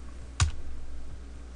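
A single short burst of computer keyboard typing, close and crisp, a quick cluster of key presses entering CMD, then quiet room tone with no talking.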